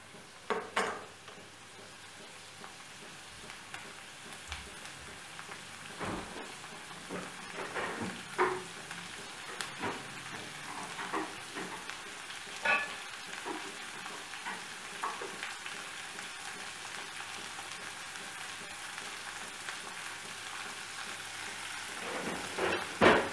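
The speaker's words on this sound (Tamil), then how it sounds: "வெங்காயம் வதங்கட்டும்." Large-cut onion pieces fry in oil for kara chutney, making a soft, distant crackling hiss broken by occasional spoon scrapes and taps over the pan.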